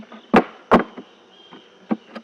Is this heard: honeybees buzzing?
yes